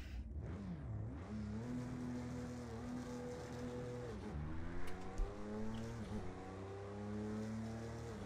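A 2016 Audi LMP1 race car on a night lap at Le Mans in the game Project Cars 2, its engine droning and rising steadily through the gears, with a brief lift and drop in pitch midway and no talk.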